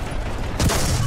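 A tank cannon fires in a video game, a single heavy boom bursting out midway through loud, constant engine rumble and battle noise.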